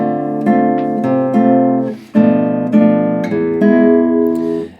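An acoustic guitar fingerpicks a short chord progression, moving into E, each chord ringing out with a descending bass line, clear and close with no voices.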